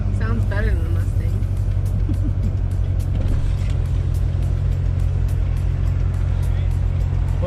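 A fast sports car's engine hums steadily from inside the cabin on a test drive, a low continuous drone with people talking over it.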